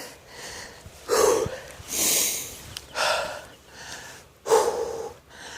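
Heavy, labored breathing of a person worn out by exertion outdoors in winter, with several loud gasping inhales and exhales in an irregular rhythm, close to the mic and heard alone.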